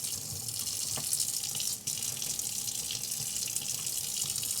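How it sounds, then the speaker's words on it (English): Tap water runs steadily into a kitchen sink to rinse a half teaspoon while baking brioche bread, a continuous broadband splash that stays even, with one brief dip partway through. "I'm going to rinse the half teaspoon"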